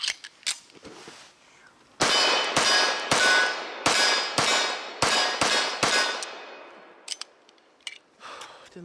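A Magnum Research Government 1911 pistol with a cast frame, its slide cycling and magazine being handled: about eight sharp metallic clacks with ringing tails in fairly quick succession, close, plus a few softer clicks before and after.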